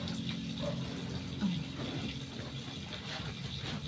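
Steady running water while bed covers are hand-washed, a continuous close splashing wash with a brief slosh midway.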